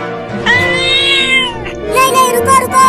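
A cartoon cat meowing in a Hindi comedy cartoon, drawn-out loud meows one after another, with voices talking around them.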